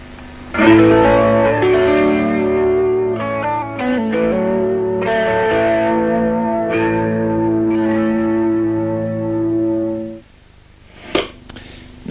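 Homemade electric guitar with two pickups wired in series and in phase, a thick, mellow tone sounding a run of ringing notes for about ten seconds, close and alone, then a few faint handling knocks.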